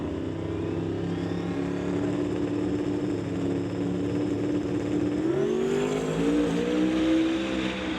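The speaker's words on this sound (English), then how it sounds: "It is going to be a close drag race at the stripe." Two drag race cars, a Nova and a Mustang, roar down a drag strip at full throttle, a loud sustained engine drone with pitch climbing and a second engine note rising in near the end.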